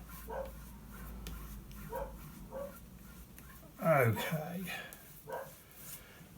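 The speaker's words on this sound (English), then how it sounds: "No doubt you can hear my dog barking in the background." A dog barks in short bursts somewhere in the background, under a person speaking nearby; one louder, sharper yelp stands out midway.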